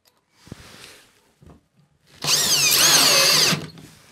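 A power screwdriver drives screws into rails while building a custom copper manifold, with some faint handling knocks first and then a loud close whirring burst of about a second and a half.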